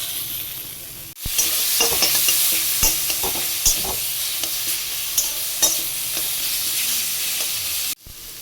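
Food sizzles and fries in a pan for taro greens cooked with hilsa fish head, as steady loud crackling is broken by repeated scraping stirs before the sizzle cuts off.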